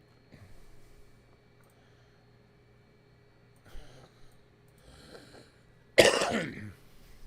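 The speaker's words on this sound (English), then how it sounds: "didn't mean to cough in your ear" A single sharp cough bursts out close to the microphone after a few seconds of quiet room tone with faint shuffling and soft handling noises, no talk.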